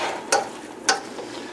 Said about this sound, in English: Come back and give it a stir.